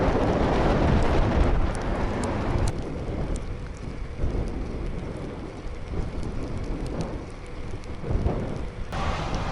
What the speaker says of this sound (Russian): Не снег, а такой мелкий град.